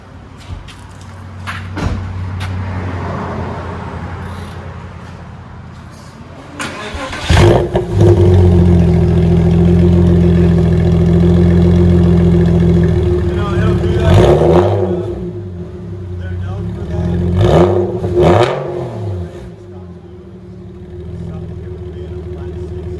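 Loud, raspy revving in several bursts from a 1999 Porsche Boxster with straight-piped dual exhaust, with a deep steady idle droning between them; a voice speaks briefly near the start.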